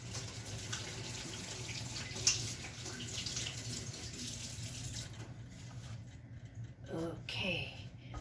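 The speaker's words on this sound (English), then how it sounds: "Okay, wash my hands." A kitchen tap runs while hands are washed, giving a steady close splashing hiss for about five seconds before it shuts off, leaving quieter clatter and faint movement.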